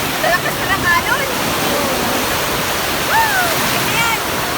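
Loud, steady rush of strong ocean waves crashing at Kite Beach, Dubai, with a few faint bird-like whistles and brief voices rising over the surf.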